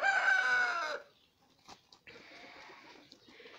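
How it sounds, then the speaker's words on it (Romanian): Rooster in a yard of meat-breed chickens gives a loud, close crow lasting about a second, followed by quieter scattered clucks and yard noise. "Ia uitați câteva din puicile de viandos și cocoși."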